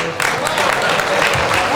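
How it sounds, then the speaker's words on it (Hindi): An audience at a Hindi poetry gathering (kavi sammelan) claps steadily, a dense patter of many hands filling the whole short stretch. "तालियां बजाओ।"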